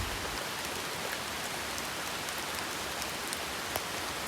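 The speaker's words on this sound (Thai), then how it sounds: "ฝนก็ตกลงมาตลอดทางเลย" Steady rain falls and patters on surfaces, with scattered individual drops standing out against a constant hiss.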